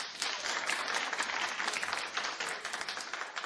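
Studio audience at a daytime talk show claps steadily in a dense, even burst of applause, somewhat distant and with no voices over it.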